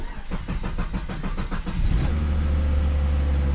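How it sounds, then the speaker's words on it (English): A Volvo engine cranks with a quick, even starter chug for about two seconds, then fires and settles into a loud, steady idle, heard up close with no talking. "A bit of a long crank, but it wouldn't even start before"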